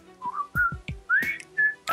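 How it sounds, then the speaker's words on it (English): A person whistles the Andy Griffith Show theme in a handful of short, clear, sliding notes, close and alone, with light breaths and clicks between phrases. "Hey, slow down that whistle."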